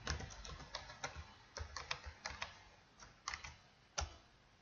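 A password being typed on a computer keyboard at the ESXi 5.5 login prompt: quiet, irregular key clicks with brief pauses, close by in a silent room.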